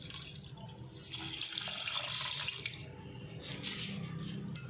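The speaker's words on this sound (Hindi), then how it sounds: "अब हम इसमें दूध डालते हैं।" Milk being poured into a sabudana (tapioca pearl) drink with jelly, giving a steady, continuous liquid splashing and trickling sound close by, without speech.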